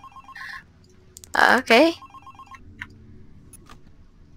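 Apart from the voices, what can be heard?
online call ringing tone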